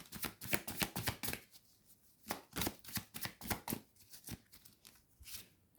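Cards for a reading are shuffled in quick, close riffling snaps and flutters, a rapid irregular run of crisp paper clicks without talk.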